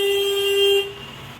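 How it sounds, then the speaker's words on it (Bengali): A vehicle horn honks out on the street in a single loud, sustained blast close by, cutting off sharply with traffic noise behind it. "গাড়িগুলো এত সামনে হর্ন বাজিয়ে ওঠে না যে কি বলবো আর"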